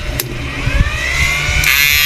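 Cooling blower on a 20-tube unit runs with a loud, steady whirring drone that slowly builds in pitch and intensity, with a brief click near the start and another near the end.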